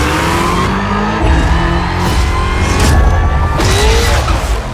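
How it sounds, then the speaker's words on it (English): A Jeep Cherokee in the Forza Motorsport game revs hard at the line and launches, its engine roar steady and loud with a tire-squeal edge throughout, alone with no talk. "in the Doritos car pack, we're shown a Jeep Cherokee track walk and what sounds like launch control."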